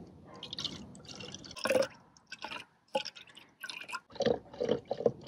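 Milk poured for a matcha latte, short bursts of liquid splashing and trickling into a cup, close and fairly soft, stopping and restarting several times.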